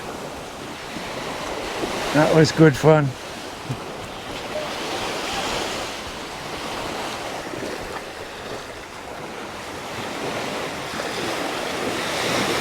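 Sea waves wash steadily onto a beach at Naklua near Pattaya, Thailand, a continuous broad surf roar mixed with wind on the microphone, while a person briefly laughs and speaks over it early on.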